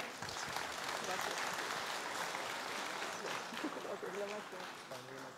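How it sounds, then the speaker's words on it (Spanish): Steady audience applause at a safety conference talk, dense and continuous for several seconds with a few voices and murmurs mixed in near the end. "Un fuerte aplauso, por favor."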